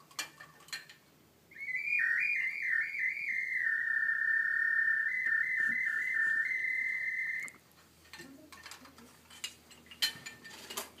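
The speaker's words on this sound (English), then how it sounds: "This is sort of like a bird whistle." A handmade bird whistle plays a steady warbling, chirping tone for several seconds, loud and close, with faint clinks and room sounds before and after.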